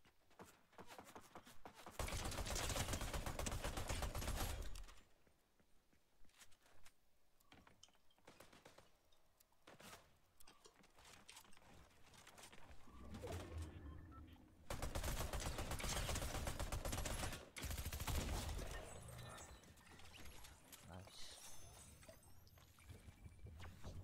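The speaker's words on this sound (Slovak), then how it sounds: "Strieľa po takom druhom." Bursts of gunfire from the Fortnite video game come in loud dense blocks separated by quieter stretches of game ambience, with no talk.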